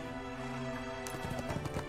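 In the game ArcheAge, a horse whinnies and its hooves clop close by, a quick burst of hoof strikes over a steady background drone with faint game music.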